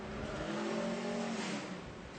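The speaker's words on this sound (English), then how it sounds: "A little bit of engine tuning going on as well as they gear up for practice, so it may get loud" A NASCAR Nationwide Series race car, number 87, idles and revs in a Kentucky garage during engine tuning before practice. It gives a loud, steady, close engine drone that swells slightly midway.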